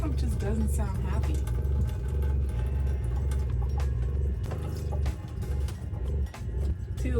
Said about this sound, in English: the water pump just doesn't sound happy